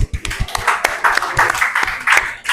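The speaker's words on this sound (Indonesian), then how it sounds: "Tepuk tangan dulu." An audience in a classroom claps after a group presentation, with irregular, close handclaps over the short span and faint voices underneath.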